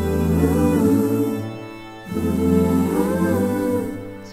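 Sustained orchestral strings close a pop-style vocal music mix, swelling in two long phrases with layered harmonies before slowly thinning out, heard alone without talk.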